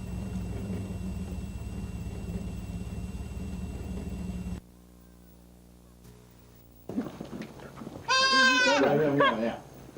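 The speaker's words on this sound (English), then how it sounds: "This baby goat is the first of the co-ops to survive birth." A newborn baby goat on a farm gives one clear, loud, wavering bleat near the end, after a stretch of steady engine-like noise and a near-silent gap.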